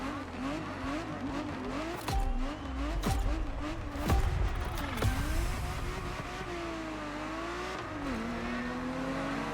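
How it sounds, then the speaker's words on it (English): A Ferrari Scuderia in the racing game The Crew, engine revving up and down through gear shifts with tire squeal and skids, loud and continuous, punctuated by sharp impacts. "What a cool car. The Scuderia is what started it all."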